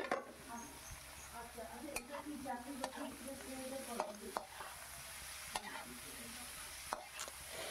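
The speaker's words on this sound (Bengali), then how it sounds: "এবার দিয়ে আমি ভালো করে একটু নাড়িয়ে চাড়িয়ে নেব।" Spring onions being stirred in a frying pan for restaurant-style mixed chow mein, with a steady sizzle and repeated scraping clicks of a utensil against the pan, fairly quiet with no voices.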